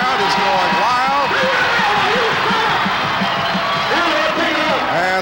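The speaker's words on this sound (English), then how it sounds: "The crowd is going wild." A rodeo crowd roars and cheers wildly after a bull ride, a dense, loud wall of shouting that never lets up, with an announcer talking over it.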